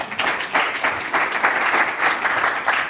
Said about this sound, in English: Jane, give her a round of applause, please.